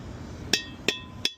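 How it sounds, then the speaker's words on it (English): Three sharp metallic hammer strikes on a wheel stud in a GMC or Chevy dually rear truck hub, evenly spaced and ringing briefly, close and clear over faint background hum. "Now you want to hit this with the hammer."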